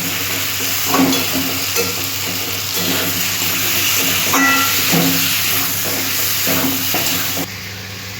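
Fried potatoes and spices are cooked down in a pan, a continuous loud hissing sizzle broken by repeated rhythmic scrapes of a spatula stirring the mixture.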